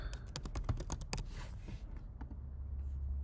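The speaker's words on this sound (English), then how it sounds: "let's type in s'mores" Computer keyboard keys tapped in a quick burst of about eight distinct clicks, close and clear, followed by quiet room tone.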